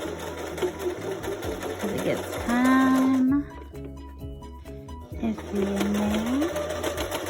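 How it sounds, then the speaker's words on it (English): A sewing machine stitches a homemade fabric mask in short runs, its whirring motor rising in bursts between pauses, close and loud, while someone talks over and between the stitching. "you might have to do it by hand on the sewing machine"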